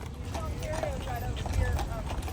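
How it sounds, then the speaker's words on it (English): A horse and carriage approaches on a street, its hooves clip-clopping in a steady rhythm beneath voices talking nearby. "there's already a horse and carriage headed our way"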